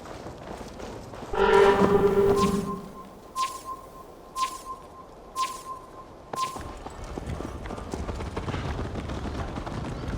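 A horse's hooves clatter in a quick rhythm in the video game Assassin's Creed Valhalla. A loud burst of music or a horn opens the clip, then the hoofbeats continue with scattered thuds against a quiet background.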